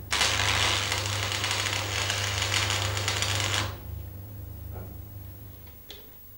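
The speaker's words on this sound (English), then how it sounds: "Strike the arc at the end and move inwards to make a tack weld about 10 millimeters long." A manual metal arc stick welder strikes an arc for a short tack weld: a harsh, steady crackling buzz with low electrical hum runs for several seconds, then cuts off, leaving quiet background with a couple of faint clicks.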